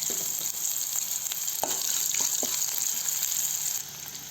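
Urad dal, green chillies and chopped peanuts fry in hot oil for pulihora, a steady close sizzle and crackle with a few sharp pops, running continuously before easing off near the end.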